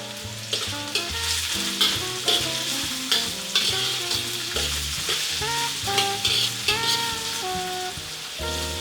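Onion and garlic frying in a pan for Cebu-style paklay, a strong, steady sizzle with repeated scraping stir strokes and background music playing throughout.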